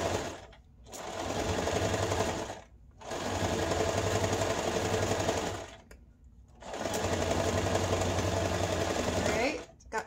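A sewing machine stitching through a cap brim and lining, three long runs of rapid, loud, steady needle chatter broken by short pauses.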